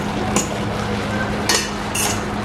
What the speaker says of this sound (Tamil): இடக்கிட மிக்ஸ் பண்ணி விடுங்க.